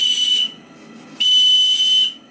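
Small, slim steam whistle on a live steam model boat, two sharp shrill blasts, the first about half a second, the second longer after a short pause, loud and close.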